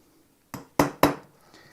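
A small hammer strikes a punch against a motorcycle wheel hub and bearing retainer to stake it, three sharp metallic taps after a short quiet start, close and clear.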